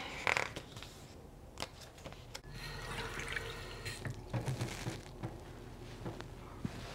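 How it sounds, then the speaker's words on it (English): Tap water running and splashing into a new ceramic rice pot at a kitchen sink, a steady close pour with a few clinks and drips, no talking. "Water."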